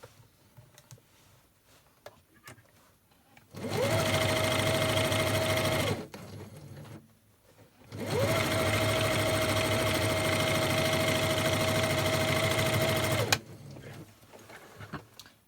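A sewing machine runs in two bursts while stitching fabric for a lunch bag, a close, steady motor hum with rapid needle clatter, separated by a short pause with faint handling noises.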